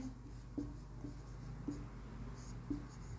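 Chalk or marker scratches on a board during a biology lesson, with a few short, faint taps and strokes spaced irregularly against a quiet classroom background.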